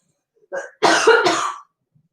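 A short cough followed by a rough throat clearing, close and fairly loud, then silence.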